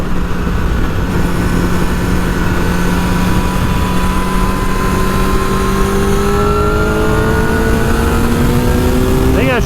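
Suzuki GSX-R 750 sport bike on a racetrack trackday at Miller East, engine screaming at high revs and climbing steadily in pitch down a straightaway toward the rev limiter, loud and continuous with wind roar.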